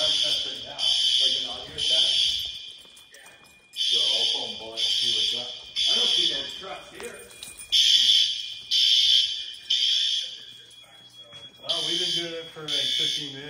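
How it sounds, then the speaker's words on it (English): Fire alarm horns on a Notifier NFS2-3030 system sound in loud, rhythmic bursts during an alarm test at a new middle school, with short gaps between groups of blasts while people talk underneath. "we're doing the actual alarm test right now"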